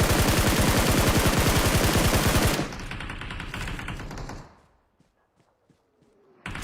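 Sustained automatic M4 rifle fire in a video game, a rapid, loud and even burst lasting a few seconds, then a quieter stretch of scattered thuds before a short burst returns.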